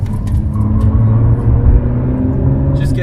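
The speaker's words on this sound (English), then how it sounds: "you're getting a little more tire noise now from me" Ford GT Heritage Edition cornering, with a low steady engine drone and road rumble inside the cabin, and a rising hum of tire noise underneath.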